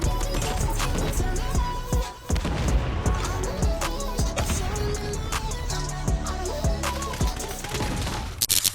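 Rapid SO14 gunfire in the Call of Duty Mobile video game, dense and loud with bursts of shots and impacts layered over game music, with a brief pause near the start.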